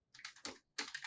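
Code is typed on a computer keyboard in two quick, close bursts of key clicks with a brief pause between them.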